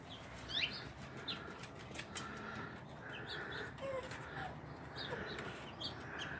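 A small bird trapped inside a house flutters its wings in short, irregular bursts, mixed with a few brief chirps at moderate distance and no talking.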